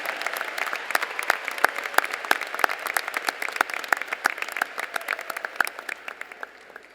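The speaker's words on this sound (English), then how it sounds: "If we could give one more round of applause for our great senior national anthem choir and the director" Applause fills the hall at a 2015 Stevenson High School graduation ceremony, a dense, steady crowd clapping with sharp individual claps standing out, then fading toward the end.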